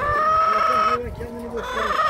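Chickens and roosters at an outdoor poultry market in Sungurlu, Çorum, where young hens are for sale: loud close clucking and a drawn-out crowing call over a busy flock, continuous through the short stretch.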